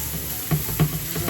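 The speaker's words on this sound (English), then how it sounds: "you hear that sizzle?" Steak sizzles in a hot pan alongside asparagus, a close, steady crackling hiss with a few brief louder pops and stirring bumps.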